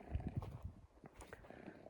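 Quiet, uneven hoof thuds of horses on ground, a few clip-clops at a walking pace, faint and somewhat distant.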